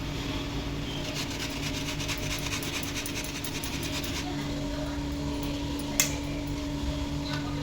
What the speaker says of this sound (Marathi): भरपूर असं चीज त्यांनी किसून घ्यायचं